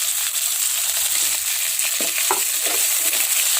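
Salted pedo fish stir-frying in a pan, with a bright, steady, close sizzle and a few spatula scrapes and taps partway through, no talking.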